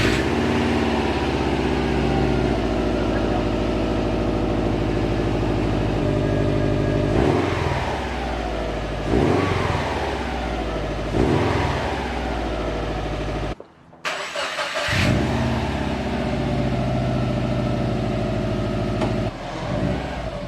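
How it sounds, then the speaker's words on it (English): A Subaru WRX engine rumbles loudly through a new aftermarket XForce exhaust, idling steadily and revving sharply several times, with a brief cutout midway. "so first time starting the Xforce exhaust"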